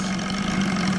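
OS Sirius 7 FR7-420 seven-cylinder glow radial model engine on 15% nitro fuel, idling with a steady low buzzing drone that stays even throughout, close and loud.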